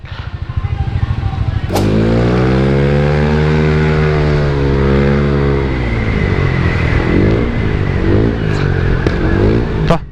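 Motorcycle engine running close by in street traffic, with a sharp pop near the start like a backfire, then a steady idle and revving drone with a few more faint pops.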